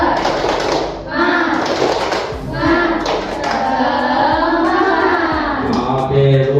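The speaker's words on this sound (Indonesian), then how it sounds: "Tepuk semangat." A classroom of students doing the rhythmic 'tepuk semangat' spirit clap, a series of sharp patterned hand claps mixed with loud group voices chanting along in a lively room.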